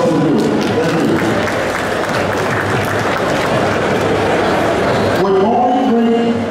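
A large crowd applauds at a stadium political event, broad and loud sustained clapping and cheering that fills the space, with some voices mixed in near the end.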